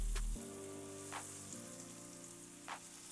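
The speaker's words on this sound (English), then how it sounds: "I've set my pan on low-medium heat and I'm gonna add 4 tablespoons of butter" Four tablespoons of butter melting in a pan over low-medium heat, a steady soft sizzle with a low hum beneath and a few faint crackles, close and without talk.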